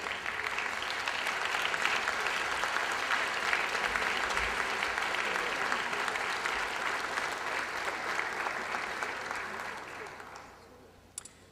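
Sustained applause from an incoming class of health professions students honoring their families at a university white coat ceremony, steady and fairly close for about ten seconds before fading out at the end.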